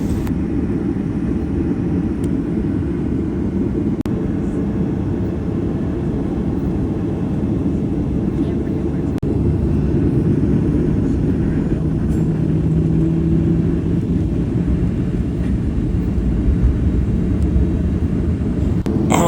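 An American Airlines airliner taxis at JFK airport toward runway 36 for takeoff, heard from inside the cabin as a steady, loud low engine rumble and broadband roar that holds for the whole stretch, with no talking.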